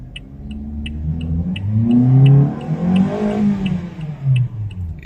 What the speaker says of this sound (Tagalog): Engine rev full throttle.